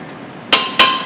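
A hammer strikes a brake caliper bracket bolt on a 2007 Honda Accord twice, two sharp, loud metallic hits about a quarter second apart, each ringing briefly, with no talking.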